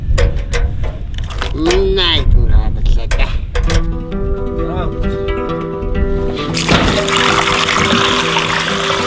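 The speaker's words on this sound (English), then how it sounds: "now we're filling up the pot with water" Water runs into a cooking pot during an outdoor Mongolian sheep-head cooking session. The rushing pour swells up in the last few seconds after clattering handling sounds, with people talking throughout.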